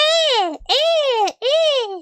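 Three drawn-out, strained nasal tones from a human voice imitating the sound pigeons make when they fly, each rising then falling, close and loud with short gaps between.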